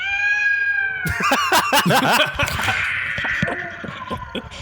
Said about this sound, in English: That's a dying cat.